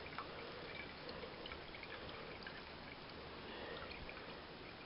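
Fly agaric mushroom juice poured into 35-proof homemade moonshine: a steady, faint liquid trickle and pour running continuously throughout, quiet and close with no voices.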